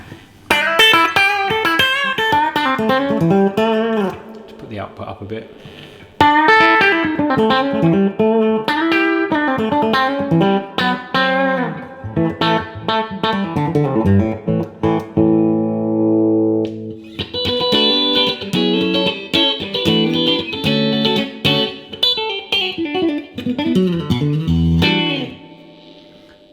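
An electric guitar plays through a Yamaha THR10C desktop amp and is picked up by a microphone. Loud, ringing chords and single-note runs come with effects, broken by short pauses and a brief spoken remark.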